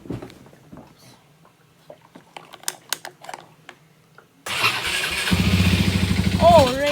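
A Rally 200 motorcycle engine is started after a few light clicks and taps, then catches abruptly and runs loud and close, revving up sharply as too much gas is given.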